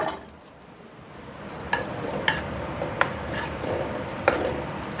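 Sliced garlic stir-fries in a pan on a gas stove while a spatula scrapes and clinks against the metal in sharp strokes over a steady low sizzle, close and fairly loud.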